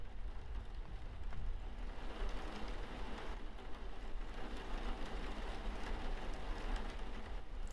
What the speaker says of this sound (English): It's just the wind, or the rain hitting the windows.